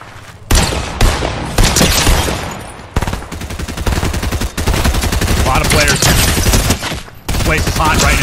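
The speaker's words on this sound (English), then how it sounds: "Getting shot from another angle." Rapid bursts of gunfire in the video game Fortnite, with loud volleys that repeat and keep going almost without a break, set against a busy mix of game sounds.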